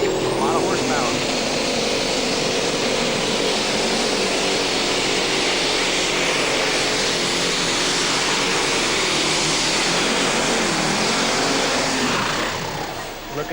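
Super stock pulling tractor engine roaring during a pull at a 2008 NTPA championship in Bowling Green, Ohio; a loud, sustained, dense engine drone with no breaks across the whole stretch.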